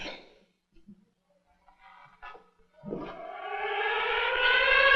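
Faint scattered noises give way to a rising siren wail that swells and holds, growing louder toward the end.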